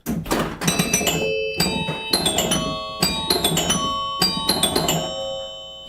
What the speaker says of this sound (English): There are now this many chimes in the machine. 6 chimes in the machine.